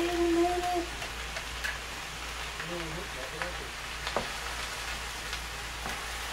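Mustard-coated fried chicken frying in a pan over low heat, a faint steady sizzle and crackle with a few brief pops, heard under a soft voice at the start.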